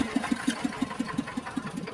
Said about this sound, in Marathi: याचं इंजिन आहे, जनरेटरचं इंजिन